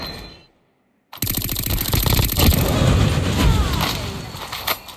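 Automatic gunfire from the video game Call of Duty Mobile starts abruptly after a brief silence, a loud, dense stream of rapid shots lasting several seconds with some louder bursts near the end.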